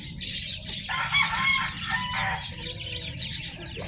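Game fowl on a game farm, a hen and a rooster, crowing and clucking close by, with other birds chirping in the background.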